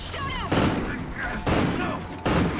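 Bursts of video game gunfire in a sci-fi battle against Federation forces, loud thumping volleys repeating roughly every second over steady game background noise, with voices talking over it.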